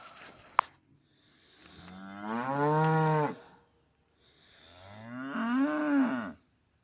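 Cattle moo loudly in two long, drawn-out calls near a mini excavator site along a fence line in a valley, with quiet gaps between and no talking.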